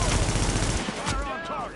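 Gunfire in The Division during the Outbreak global event, a loud dense burst of automatic shots up close for under a second, fading into a ringing tail with a voice shouting briefly over it.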